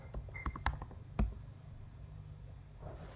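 Fingers typing a short command on a computer keyboard at a terminal, producing a quick cluster of close, crisp key clicks before quiet room tone.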